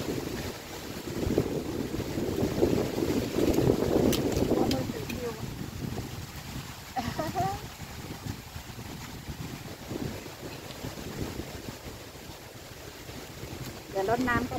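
Strong wind gusts outdoors around young mango seedlings, a loud buffeting rumble that swells and eases in waves, with scattered brief knocks and rustles.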